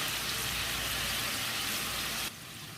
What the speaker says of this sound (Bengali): যেই তেলটা পেঁয়াজ বারিস্তা করেছি সেই তেলের মধ্যে আদা রসুন 2 চামচ দিয়ে ভালো করে নাড়ব।